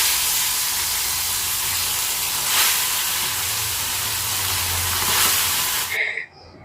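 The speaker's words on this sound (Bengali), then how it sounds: "এবার মা মাছগুলোকে এক এক করে ভেজে নেবে।" Fish frying one by one in hot mustard oil in a wok, a steady loud hiss and sizzle with slight swells that cuts off abruptly near the end.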